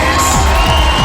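A large audience cheers and applauds loudly at a gathering in support of Armenia's Eurovision entrant, a dense, continuous wall of crowd noise with whoops throughout a brief moment.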